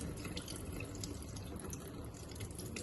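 Washed food being drained in a kitchen, a steady soft trickle and patter of water running off throughout, fairly quiet with no voices.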